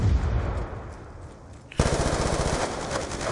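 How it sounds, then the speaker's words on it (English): Rapid automatic gunfire from the Black Ops 2 video game, a dense burst that breaks off, then resumes as a loud sustained stream of shots through the end. "Someone's shooting at me."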